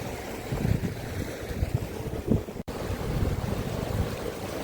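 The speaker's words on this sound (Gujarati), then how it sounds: "ફૂલ ઠંડો પવન છે" Cold wind at Zero Point above Yumthang Valley, Sikkim, about 14,000 feet up and under 10 degrees, buffets the microphone in rough, uneven gusts with a low rumble, brief dropouts and no speech.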